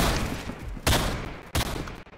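Rapid gunfire in the Roblox video game, loud bursts of repeated shots with two sharp volleys standing out, sounding close and dense.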